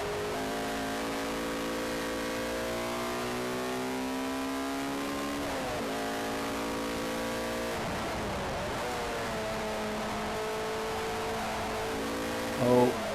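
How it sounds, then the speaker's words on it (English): Race car lapping the Brands Hatch GP Circuit, a loud steady engine drone rising in pitch through gear changes, with brief dips where it shifts down, and no voices. "Listen to the car. Those tyres are begging for mercy."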